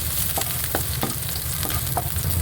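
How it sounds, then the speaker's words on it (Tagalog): Garlic hits hot oil in a pan for sautéed bitter gourd, giving a continuous loud sizzle with a few sharp pops and stirring scrapes. "Mainit na guys yung ating mantika, kaya ilalagay na natin yung ating bawang."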